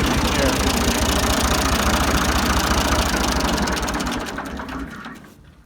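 A Ford 2000 tractor engine idles with a steady, rumbling low chug close by, then the running sound fades and drops away toward the end.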